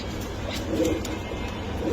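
A domestic pigeon coos softly and briefly at close range over a steady low background murmur.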